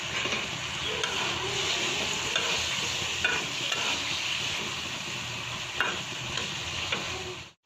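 Potatoes stir-fried in a spice masala for a tilapia and potato curry, a steady close sizzle of hot oil with occasional light spatula taps and scrapes throughout, then a sudden stop.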